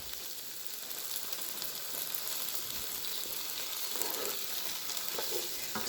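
Herbs sauteing in a hot pan for a Mediterranean peas and carrots dish, a steady soft sizzle and crackle of oil, close and quiet, with faint stirring scrapes near the end.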